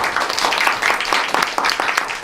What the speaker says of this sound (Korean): 한기정 사장님께 다시 한번 박수 부탁드리겠습니다